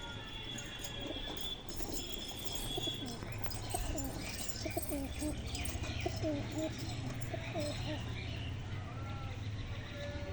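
Pigeons kept for flying tournaments coo softly and repeatedly at close range, their low throaty calls rising and falling over a steady background hum, with a few chirps from other birds mixed in.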